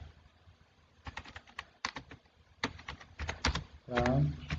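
Computer keyboard keys tapped in short bursts while HTML and JavaScript code is written, close and moderately loud, with a brief tonal sound near the end.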